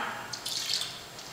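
Water being poured to fill a container, a brief gurgling splash and trickle, close and moderately loud, with no talking.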